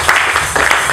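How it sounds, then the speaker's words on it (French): A church congregation claps loudly and continuously for the Lord, dense overlapping applause filling the short moment. "Applaudissons fortement pour le Seigneur."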